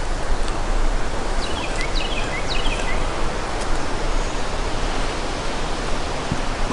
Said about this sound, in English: This wind's getting it pretty good.